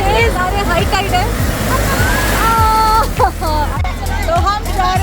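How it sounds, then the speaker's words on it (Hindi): Strong high-tide water rushes in at Banganga near Somnath, a steady broadband roar of surf filling the scene while a crowd of voices chatters and calls throughout. "यहाँ पानी आ रहा है बहुत तेज, हाई टाइड है"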